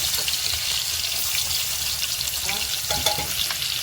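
Onion drops into hot oil with garlic already reddened in the pan, giving a steady, close sizzle with bursts of crackling and faint stirring toward the end.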